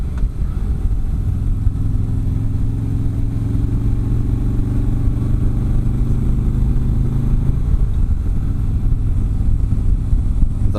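A 2017 Harley-Davidson Street Glide Special's engine under way, a steady deep low rumble that holds throughout, with a slight shift in tone late on, loud and close with no talking.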